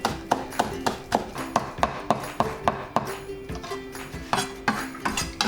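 A knife thinly slicing onions on a cutting board, making a steady run of sharp, close taps at an even rhythm that slows briefly partway through and then resumes.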